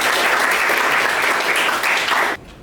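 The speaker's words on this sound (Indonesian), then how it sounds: "Oke, tepuk tangan dulu untuk Arfi sama Dava." A classroom of students applauds two classmates during a coding and algorithms lesson: steady, dense clapping that runs loud and even for about two seconds, then cuts off abruptly to near silence.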